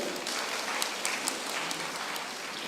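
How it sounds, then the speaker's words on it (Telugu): A room full of listeners claps at a sermon gathering, giving a thick, even wash of applause that holds at a moderate level for a few seconds. "క్లాప్స్ కొనండి ఒకసారి"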